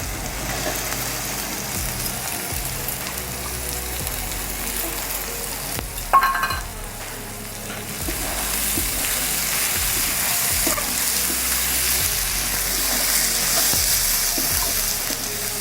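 Onions fry with garlic on a lowered gas flame in a pan for a Sunday chicken curry. A loud, continuous close sizzle runs throughout, broken by a sharp scrape or clatter around the middle, and no one speaks.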